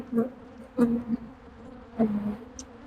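Honey bees buzzing close during a hive check, a few short agitated buzzes passing near with pauses between, fairly loud against a quiet background.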